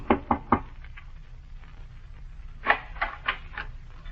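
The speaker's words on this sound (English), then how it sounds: "and at the door of one the woman knocked" Knuckles rap on a cabin door, first three quick sharp knocks and then, after a pause, a second run of four evenly spaced knocks, close and clear over a low background hum.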